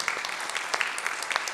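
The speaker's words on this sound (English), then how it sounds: "Let's give a clap and get reading." Brief burst of clapping from a church congregation during a Lutheran worship service, a short scattered patter of hands at moderate volume with no talking.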